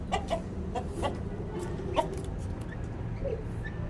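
A rooster gives several short, sharp clucking calls at uneven intervals, fairly close, over a steady low rumble of background noise.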